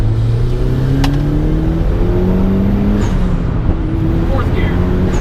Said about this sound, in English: here's third gear